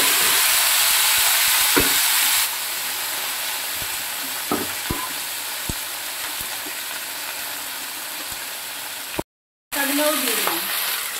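Green beans, eggs, carrots and cauliflower stems frying in a pan give a steady close sizzle with occasional stirring clanks, briefly cutting out near the end before the hiss resumes.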